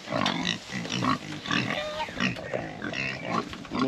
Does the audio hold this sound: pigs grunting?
yes